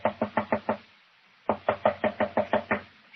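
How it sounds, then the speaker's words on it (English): Someone raps on a locked door in two brisk series of knuckle knocks, about six and then nine, with a short pause between them. The knocks are close, firm and alone. "Knock again, if you don't mind."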